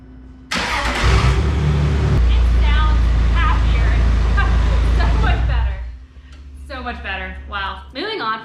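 A Jeep TJ Wrangler engine cranks and catches around half a second in, then settles into a loud, steady idle rumble before cutting off; voices talk briefly afterward.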